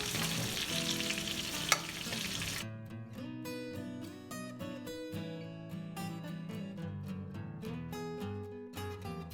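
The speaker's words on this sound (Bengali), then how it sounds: "এভাবে আমি বাকি মাছগুলো ভেজে নেব" Pangas fish pieces fry in a pan with a dense, close sizzle for the first few seconds, after which the frying drops low beneath background music.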